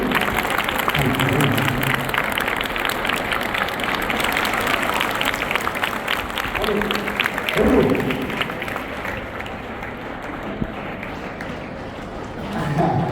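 Students at an SSC motivational training session clap together, a dense rattling round of applause filling the hall at fairly high level, fading slightly toward the end with a brief surge in the middle.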